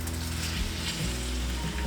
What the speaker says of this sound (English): get them sauteed fast before adding them to my sauce. Now this will just give those gnocchis a light browning